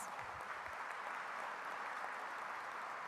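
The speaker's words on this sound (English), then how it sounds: "We should give Mayor Castro a round of applause" A conference audience at an annual HACU gathering gives a round of applause for Mayor Castro: dense, even clapping that fills the room at a steady level from start to finish, with no voices over it.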